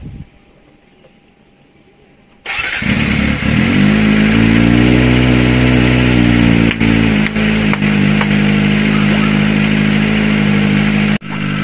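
After a short quiet start, a Kawasaki Ninja ZX-25R motorcycle engine suddenly starts and settles into a loud, steady, throaty idle close by, with a brief dip near the end.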